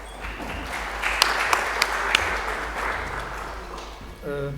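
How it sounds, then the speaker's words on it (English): An audience at a PocketQube workshop claps in a broad, steady wash of applause, with a few sharper claps standing out before it fades. "we're going to give them a round of applause"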